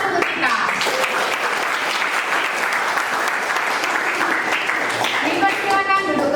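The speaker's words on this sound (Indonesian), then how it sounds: "Beri aplaus untuk kita." Students at SMK Negeri 1 Sarirejo applaud in their classroom with sustained, lively clapping from many hands. Voices call out over the clapping toward the end.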